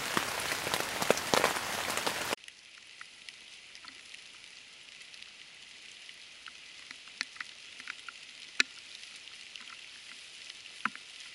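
Steady overnight rain patters on a surface outdoors, with scattered louder drips landing close by over a soft, continuous hiss.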